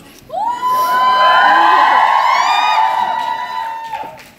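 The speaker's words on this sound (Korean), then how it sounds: "큰 어, 함성과 호응 부탁드리겠습니다" A theatre audience at a musical's final performance erupts in loud cheering and high-pitched shouting, rising quickly and holding for several seconds before tapering off.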